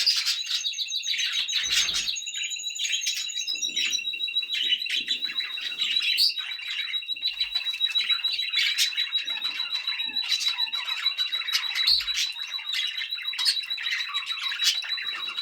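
Many budgerigars chatter continuously, with shrill chirps and scratchy squawks layered together, close and busy, with no voices.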